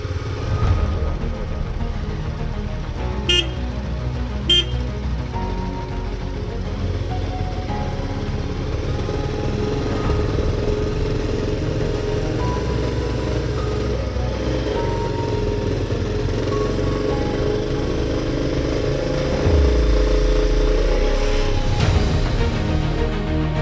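A Royal Enfield Meteor 350 motorcycle climbs a mountain road on the way to Shimla, its engine droning steadily and loudly throughout, swelling near the end, with wind noise and no talking.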